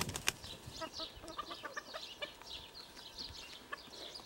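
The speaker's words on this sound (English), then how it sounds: "here's a bunch of chickens" Soft, scattered chicken clucks and chirps from a few birds at a moderate distance, with occasional wing flutters and light rustling underneath.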